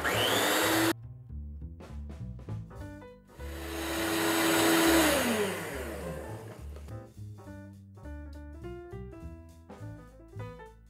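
An electric mixer beating a homemade coconut ice cream base, a steady motor whir that swells louder in the middle and then eases, heard under background music.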